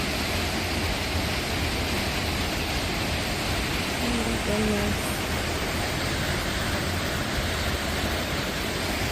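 A waterfall near Mt Rainier pours with a constant, loud, close rushing roar, and one person briefly speaks over it.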